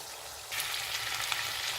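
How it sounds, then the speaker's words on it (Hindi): Capsicum and onion pieces sizzling in a pan for a chicken Manchurian, a quiet hiss that swells sharply about halfway through into a bright, steady frying crackle with no voices. "ये सब्जियों को जो है अभी थोड़ा सा इसको गरम करेंगे, ताकि हल्की सी नरम हो जाए और थोड़ी भून जाए।"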